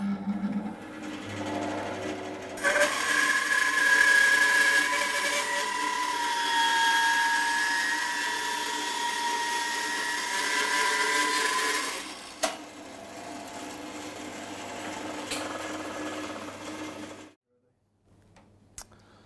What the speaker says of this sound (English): we're just going to rip across a piece of yellow pine